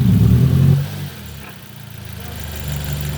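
A 2006 Nissan Y11 AD with a QG15 engine, suffering low power and misfire, runs under load in gear, holding a loud steady drone that drops and then climbs again, close to the engine with no talking.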